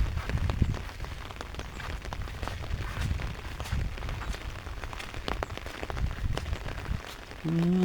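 Rain falls across open rice fields in a steady patter of drops striking surfaces, dense and continuous with scattered louder hits throughout.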